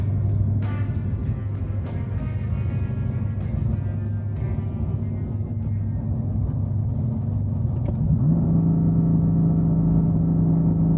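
700 hp BMW M3 at a drag strip, its engine rumbling loud and close at a steady idle with a low drone, then the pitch climbing into a held higher rev near the end.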